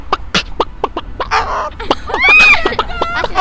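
A person vocally imitates a chicken on a street, giving short clucking bursts and then a rising, warbling squawk that sounds close and loud, with other voices around.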